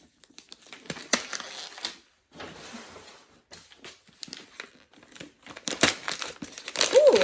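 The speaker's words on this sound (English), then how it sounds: "now let's get into the unwrapping" Close, crisp paper crinkling and tearing as wrapped books are unwrapped, irregular bursts of rustling broken by short pauses, growing busier and louder near the end.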